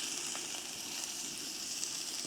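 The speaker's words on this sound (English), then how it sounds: "So that frying pan is nice and hot, which is what you want for steak. Oh, listen to that sizzle." Steak and small potatoes fry in hot oil in a frying pan, giving a steady, close sizzle with a continuous bright hiss and no talk over it.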